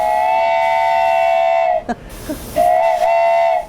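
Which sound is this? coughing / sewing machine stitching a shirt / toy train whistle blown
toy train whistle blown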